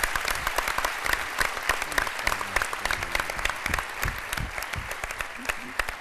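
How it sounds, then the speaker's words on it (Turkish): Studio audience applause on a Turkish television talk show, brisk and continuous with distinct sharp claps at a fast, even rhythm, holding steady at moderate loudness the whole time. "Onun için de sevgili Gündüz abiye bir alkış alayım."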